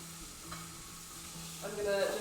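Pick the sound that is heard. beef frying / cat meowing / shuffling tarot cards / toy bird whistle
beef frying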